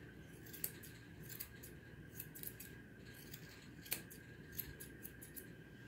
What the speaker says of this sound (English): Very careful scissoring around their genitals